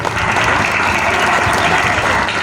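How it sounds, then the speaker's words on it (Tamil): Steady, dense applause from an audience at a prize-giving ceremony fills the space for a couple of seconds, loud and continuous with no voices over it. "நல்லா கைத்தட்டுங்க."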